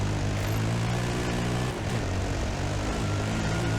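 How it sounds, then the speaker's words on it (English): A helicopter in the Dakar Desert Rally game, producing a loud, dense, continuous rotor-and-engine drone with low throbbing harmonics, steady throughout and heard alone without talk. "lead the way, helicopter"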